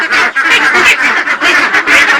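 Many ducks, mostly female, quack loudly and continuously close by on a duck farm, a dense overlapping chorus with no pause.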